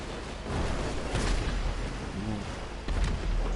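Gunshots in GTA 5 Online, a few faint booming shots over low background game noise with muffled voices talking.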